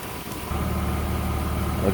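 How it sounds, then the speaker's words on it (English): A BMW 325i engine starts and settles into a steady low idle, the close, even hum continuing alone. "engine has been started."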